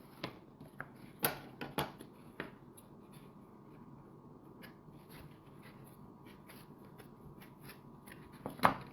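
Scissors snip through a cardboard egg carton in a craft project, several sharp close cuts at irregular intervals with quieter rustling of the carton between them.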